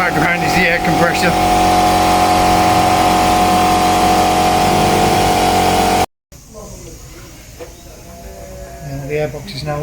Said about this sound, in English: The noise you can hear in the background is the air compressor.